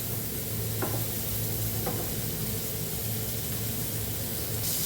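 Onions sizzle in a pan for homemade sausage, a constant frying hiss with a couple of brief stirring scrapes and no talk.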